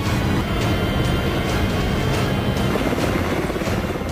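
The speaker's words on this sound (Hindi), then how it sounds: "इनकी जरूरत को पूरा करने के लिए लेह एयरबेस से लगातार हेलीकॉप्टर उड़ान भरती रहती है।" A military helicopter flies from the Leh airbase in the Ladakh high-altitude region serving Siachen posts, its loud, steady rotor and engine roar filling the whole stretch up close.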